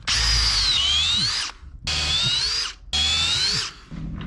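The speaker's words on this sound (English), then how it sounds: "I'll drill for the refastening here." A power drill whines loudly in three long bursts into a wooden boat frame, each about a second and a half, with brief pauses between them and a lower motor hum underneath.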